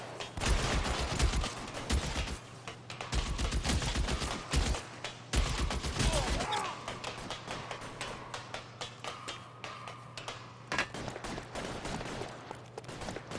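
Rapid gunfire bursts in the L.A. Noire police shootout, loud and dense through most of the stretch with short gaps, over a low steady hum and a faint voice late on.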